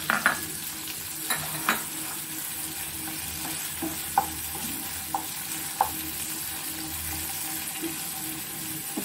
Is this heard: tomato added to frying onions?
yes